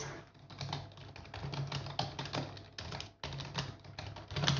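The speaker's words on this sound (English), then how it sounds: "if you're wondering why I'm typing in the chat, it's because Adam's at dinner" Rapid typing on a computer keyboard, a close run of quick clicking keystrokes with brief pauses, fairly quiet and alone.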